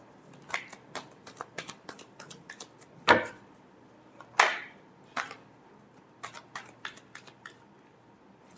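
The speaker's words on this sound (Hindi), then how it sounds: "Last shuffle." Tarot cards are shuffled by hand in close, crisp bursts of papery riffles and taps, irregular and quiet, with a couple of louder riffles in the middle.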